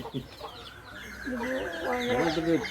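Hens clucking and cackling close by in a steady, busy stream, with a louder drawn-out squawk toward the end.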